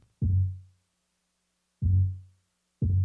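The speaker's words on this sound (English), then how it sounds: "Here's a second 808." Two deep 808 bass hits in a beat, each a booming low note that decays over about half a second, with a third beginning at the end, loud and alone.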